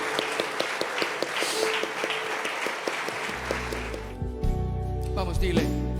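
A church congregation claps loudly and steadily for about three seconds at a Sunday morning service, then the applause thins out as sustained keyboard chords and a deep bass line take over.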